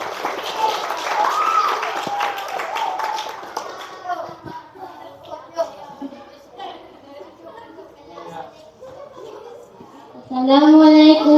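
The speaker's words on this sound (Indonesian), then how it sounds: "tepuk tangan." Schoolchildren at an elementary school Ramadan program burst into applause for a performer, a loud, noisy clapping that fades into children chattering and a voice speaking.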